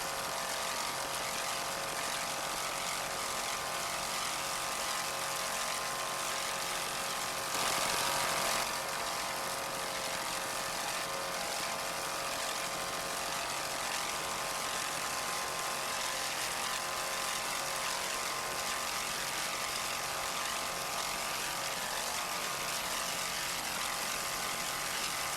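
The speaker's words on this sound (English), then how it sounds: "That 600 horsepower Chevy inboard sounds excellent" Roaring 600-horsepower Chevy inboard engine on a racing boat at an offshore powerboat race, a loud sustained drone holding steady throughout with no talk.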